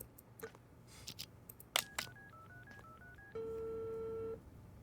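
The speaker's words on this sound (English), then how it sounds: "Another phone call." A telephone in an audio drama: a few clicks and handling noises, then a string of dial tones and a sustained ringing tone, fairly faint and with no talking.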